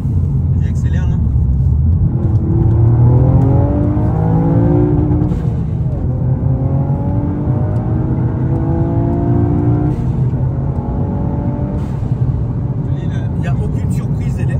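A car accelerating hard along a road, its engine note climbing through repeated rising sweeps as gears change, loud and close, with people talking over the engine throughout.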